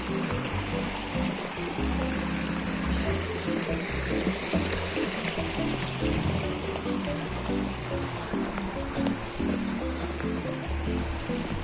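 Water of a stream rushes and gurgles steadily during a crossing, a dense close wash of flowing sound with low rumbling, continuous and fairly loud.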